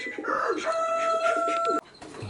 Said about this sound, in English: No, these are all roosters actually.